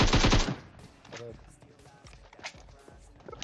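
Shotgun and automatic gunfire in a shooter video game, opening with a loud rapid burst and followed by scattered shots and footsteps over quieter stretches.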